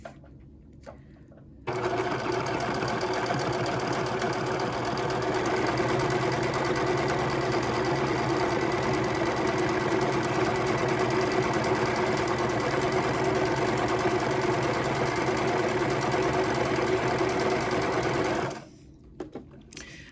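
A sewing machine stitches a small quilt in one loud, steady, unbroken run lasting most of the stretch, starting and stopping abruptly, with no talking.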